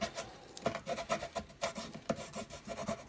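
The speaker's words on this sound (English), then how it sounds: "I can see the letters adhering to the transfer tape as I use the squeegee to stick them down." A squeegee rasps and rubs steadily over letters on transfer tape in quick repeated strokes, close and fairly quiet, with no talking.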